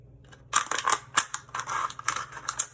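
Scissors snip through a plastic bottle in a craft project, a run of crisp, close cuts with short pauses, the blades clicking and crunching through the material at a moderate level.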